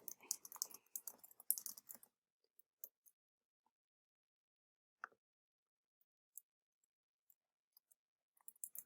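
Bursts of rapid keyboard typing in the first two seconds, followed by sparse, isolated key clicks spread across a quiet stretch.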